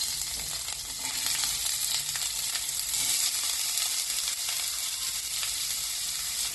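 Chopped garlic, onion, capsicum and tomato fry in hot oil in a pan, giving a continuous close hiss of sizzling while they are stirred.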